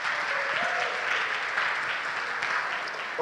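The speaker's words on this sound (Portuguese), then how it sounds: "Uma salva de palmas para vocês." Steady applause from a sizable crowd, dense and continuous for a few seconds with no talking over it.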